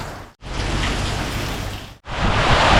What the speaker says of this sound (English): Yep, and here comes the rain.